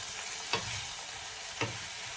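Spicy chicken curry stirred in a sizzling pan, with a steady frying hiss and two brief spoon scrapes roughly a second apart, close and without talk.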